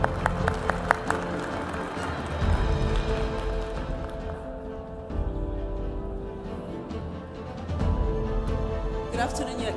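Audience at an international MICE summit applauding a speaker's introduction, steady broadband clapping from a large crowd that swells and carries on for the full stretch, with a faint musical tone underneath.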